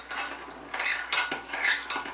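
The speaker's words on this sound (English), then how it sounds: "So let's stir in that honey." Spoon stirring honey into homemade elderberry syrup with cinnamon and cloves, giving close, repeated scraping and clinking strokes against the pot in an uneven rhythm, with no talking.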